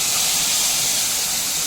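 Soaked ground spice paste hits hot oil with fried cumin seeds, producing a loud, continuous hissing sizzle that holds steady and close without pause.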